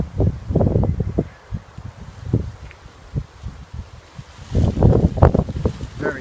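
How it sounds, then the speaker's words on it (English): Gusty wind at a plant nursery on a sunny April or May evening roars and buffets the microphone in strong bursts, easing briefly in the middle before surging again. "Very windy."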